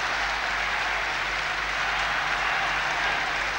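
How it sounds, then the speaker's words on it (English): An arena crowd at the 1973 World Figure Skating Championships applauds and cheers a free skating performance, a dense, steady wash of clapping held at even loudness throughout, with no voices standing out. "The crowd roaring for him now."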